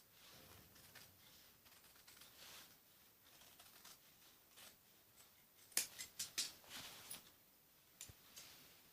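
Scissors trim excess blouse and lining fabric near a seam in a quiet room, soft rustling at first, then a cluster of several crisp close snips in quick succession followed by one more cut.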